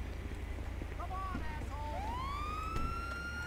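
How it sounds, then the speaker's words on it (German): A police siren in Grand Theft Auto V wails with rising and falling pitch sweeps over a steady low engine hum, as in a game soundtrack, with brief talk underneath. "Sirene können wir ausmachen."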